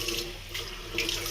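Water runs steadily from a tap into a sink in short, continuous bursts over a low hum, with no voices.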